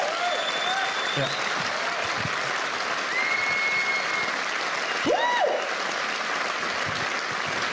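Studio audience applauds the three finalists of a Radio 2 comedy class final, a steady wash of clapping throughout with a few brief words spoken over it.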